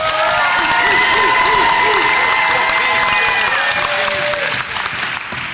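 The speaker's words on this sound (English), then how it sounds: "Round of applause for Squires" Audience applause for spelling bee contestant Squires at a literacy council spelling bee, a steady, loud wash of clapping with some cheering and voices, holding evenly for several seconds.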